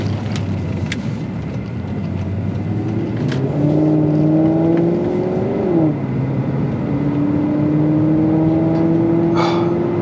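A Maserati GranTurismo MC's Ferrari-derived engine revs loud and close, pitch climbing in a sustained rise, dipping, then climbing again in a second long pull over a steady idle rumble.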